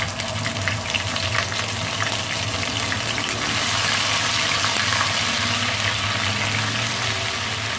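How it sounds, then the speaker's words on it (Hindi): Ginger-garlic paste sizzles in hot oil left from golden frying, a steady close-up hiss and crackle that holds loud and even throughout, with no voices. "अब हम उसी ऑयल के अंदर शामिल करेंगे अदरक और लहसुन का पेस्ट"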